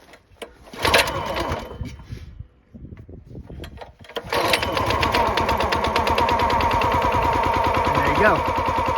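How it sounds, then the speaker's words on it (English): A Countyline 25-ton log splitter's small engine is pull-started: a few bursts of cranking, then it catches and settles into a steady, loud, close idle for the rest of the stretch. "And then you're going to want to give it a couple pulls."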